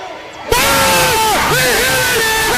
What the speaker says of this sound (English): Listen to the crowd when this happens